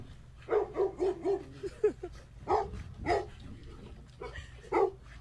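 Several dogs bark at a dolphin swimming in a canal, sharp repeated barks and yips in bursts with short pauses between, fairly close and without talk.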